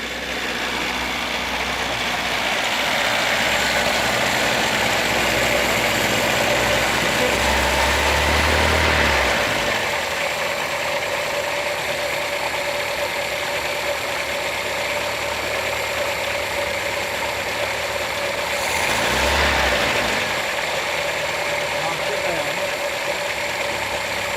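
A Skoda Forman car engine that starts hard in cold weather idles loudly, rises twice in brief revs and settles back to idle, with someone speaking over the steady engine noise.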